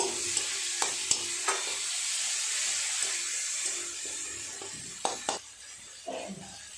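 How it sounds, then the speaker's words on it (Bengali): A spice mix of chopped tomato and ground coriander stir-fried in a pan: a steady close sizzle runs throughout, broken by several sharp scraping clatters of a spoon stirring, with no talk. "মশলাটা একটু সময় নিয়ে ভালো করে কষিয়ে নেব"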